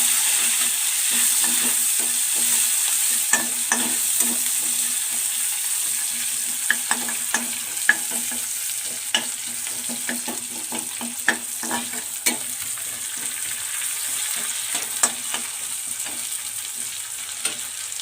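Onion and curry leaves fry in hot oil with fenugreek seeds in a steady, moderately loud sizzle. Light, regular utensil taps and scrapes punctuate it as the mix is stirred, and no voices are heard.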